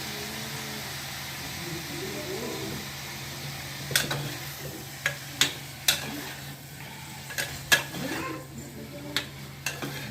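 A spoon scrapes and knocks against a pan as chopped tomatoes are stirred into an onion mixture for sambar. The sharp, irregular taps sound close over a low, steady background hiss.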